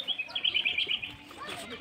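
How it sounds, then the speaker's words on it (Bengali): Birds chirp and tweet in quick, high, bright bursts among the park-like grounds of a large resort, fairly close and clear over a soft outdoor background. "তোমরা আশা করি শুনতেই পেলে কীরকম পাখির কিচিরমিচির ডাক"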